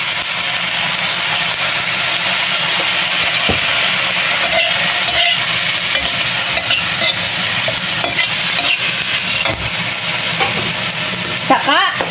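Soy sauce hits a hot pan of Taiwanese-style food, setting off a loud, continuous sizzle and steamy hiss that holds steady throughout, with faint stirring clicks underneath.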